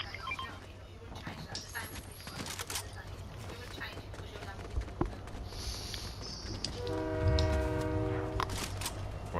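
A train in the video game Fortnite sounds a drawn-out horn blast late on, rising over a rumbling background of game noise and rail clatter, with players talking throughout.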